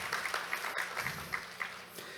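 Audience at an accounting conference opening ceremony clapping to approve a financial report, a faint, thin patter of scattered hands with individual claps standing out, distant and brief.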